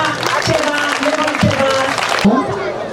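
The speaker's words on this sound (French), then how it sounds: "On applaudit Tcheba," Applause from a class of schoolchildren in a Sikasso classroom, a dense, fairly loud patter of clapping that runs the whole time and mixes with children's voices before cutting off sharply near the end.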